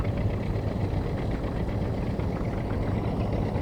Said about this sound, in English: this young fella coming by with a garden tractor, lawnmower